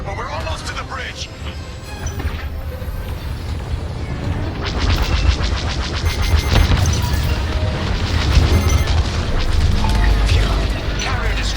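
A capital carrier ship blows apart in Star Wars Squadrons, a loud sustained roar of deep explosions and crashing debris that builds and swells over several seconds with mechanical rattles.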